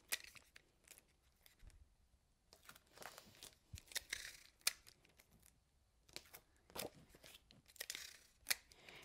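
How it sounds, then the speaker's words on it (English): Faint, scattered crinkles, tears and light taps come from double-sided tape being pulled off and pressed around the four sides of a snowflake greeting card panel. They arrive in short irregular bursts with quiet pauses between. "And I will use some double-sided tape for that."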